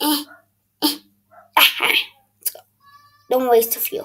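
A dog gives a few short barks and yips amid close conversational talk, with quiet gaps between the sounds.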